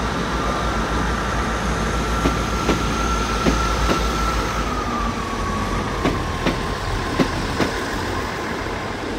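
A Great Western Railway Castle set high-speed train rolls into Exeter St Davids station, a steady close rumble broken by a regular series of sharp wheel clicks over rail joints.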